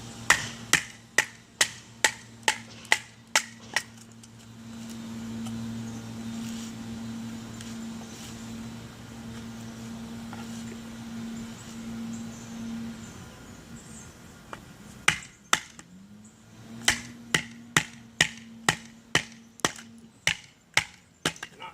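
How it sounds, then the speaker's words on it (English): Dry wood pieces are snapped and peeled off by hand for a fire, giving rapid trains of sharp, close cracks at the start and end with a quieter, steady hum in between. "Around the corners, peeling off some dry wood."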